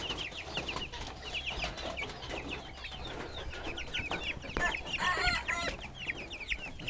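Broiler chickens kept in cages on a small home farm in Bangladesh cluck and chatter continuously at moderate distance, with a denser burst of calls near the end.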